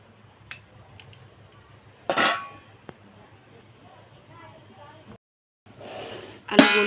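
A lid is set on a pot of Bengali chicken curry with potatoes, giving a sharp metallic clank, then a second clatter near the end, over a quiet low hum.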